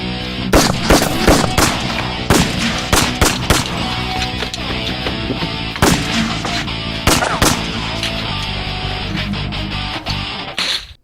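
Loud, rapid gunfire from a short action film, dense bursts of shots layered with sustained booming and rattling, some sharp isolated cracks standing out, continuous throughout with no talk.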